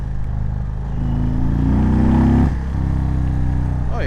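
An Indian Roadmaster Darkhorse motorcycle, a 2020 model, revs loud and close in sport mode, its engine climbing in pitch, holding briefly, then dropping back to a throbbing idle before another quick blip at the end.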